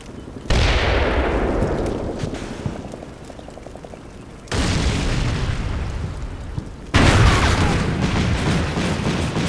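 Tank main guns firing in the war game Combat Mission Black Sea: three loud, booming reports spaced a few seconds apart, each a sharp broadband blast that trails off into a long rumbling decay.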